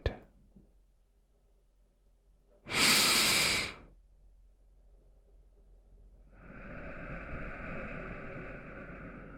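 A deep breath drawn in close to the mic, a sharp airy inhale followed after a pause by a longer, softer exhale, quiet and intimate in a calm ASMR setting.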